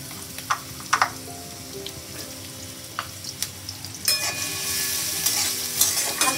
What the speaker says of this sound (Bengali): তেল দিয়ে রসুন কুচি দেব,